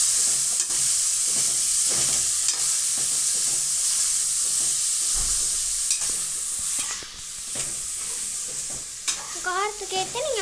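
Chilli powder stirred into frying masala for chicken biryani, heard as a constant loud sizzle broken by rhythmic spoon scrapes and taps, ending with a short squeaky sound.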